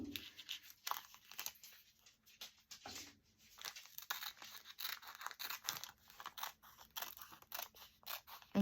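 Scissors cut through crinkly ruched plastic packaging, giving a quiet run of repeated snips and crackles with a few short pauses and no talking.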